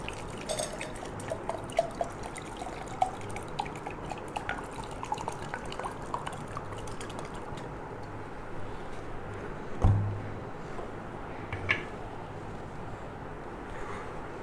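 Water poured into a summer drink being prepared with sugar, a soft steady trickle and dribble with a brief louder splash near the end, with no talk.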